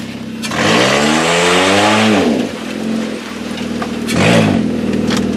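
A Kia car engine revs hard to near 7,000 rpm, pitch climbing then falling back, with a second shorter rev burst toward the end, loud and close.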